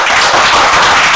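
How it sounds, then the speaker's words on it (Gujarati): Audience applause at a Gujarati literary talk event, a dense, steady wash of many hands clapping together, loud and continuous throughout with no speech over it. "ખૂબ તાળીથી એમનું સન્માન કરીએ"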